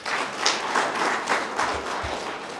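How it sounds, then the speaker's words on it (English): Audience applause at a regional state address in Kunene, honouring the correctional services: a sustained crowd of clapping hands with uneven swells, fairly close and loud, with a couple of low thumps near the end. "Please give them a round of applause."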